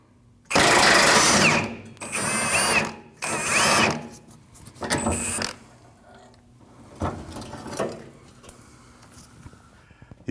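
Power tool removing a 17mm fuel tank strap bolt on a 2012-2021 Nissan NV2500 5.6L V8, heard as several loud whirring bursts that shorten and fade as the bolt comes free.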